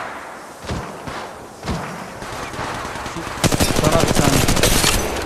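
Gunfire in the mobile shooter game Apex Legends Mobile: a few scattered single shots and thumps, then a sustained rapid burst of automatic fire, with a person speaking over the action.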